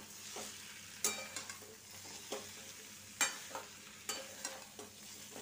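Diced bottle gourd is added to browned potatoes frying in a pan, with a soft continuous sizzle and repeated sharp scrapes and clacks of a spatula stirring, close but fairly quiet.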